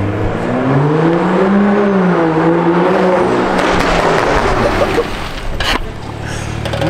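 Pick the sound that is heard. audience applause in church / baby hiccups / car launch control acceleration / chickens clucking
car launch control acceleration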